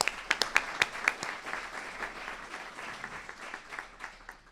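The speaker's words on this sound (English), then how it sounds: "Please give her a round of applause." Applause from an audience at an internal medicine resident graduation and awards ceremony, steady clapping with a few sharper near claps at the start, fading somewhat toward the end.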